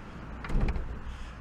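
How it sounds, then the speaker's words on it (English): A Ford Transit Custom camper's sliding side door rolls open, one short smooth rumble with a soft clunk at the end, close by and alone. "Opening up the side door"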